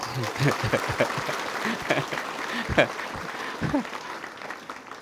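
An audience at a Buddhist sermon breaks into clapping, a dense burst of many hands that rises, peaks and then thins out over a few seconds, with voices mixed in.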